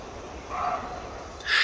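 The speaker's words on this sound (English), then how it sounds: "I'm being interrupted by a deer barking in the woods." A couple of hoarse barks from a deer sound off at a distance in the woods over a quiet outdoor background, the second a bit louder than the first.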